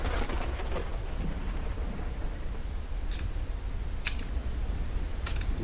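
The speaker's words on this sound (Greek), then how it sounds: "Ναι, πιάσε και βροχή τώρα." In the video game Ranch Simulator, rain patters steadily under a low, rolling rumble of thunder, with a few sharp ticks of drops striking nearby surfaces; no one speaks.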